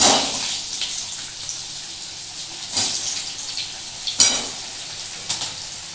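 Big chunks of potato hitting hot oil with cumin seeds, a bright crackling sizzle with a few sharper bursts as pieces are added and stirred, close and fairly loud, no talking.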